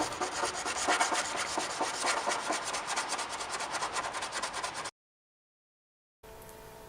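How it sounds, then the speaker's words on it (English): Steady back-and-forth rubbing of 120-grit sandpaper on rusted metal, close and continuous, then it stops abruptly into silence followed by a faint hum. "I'm using 120 grit sandpaper."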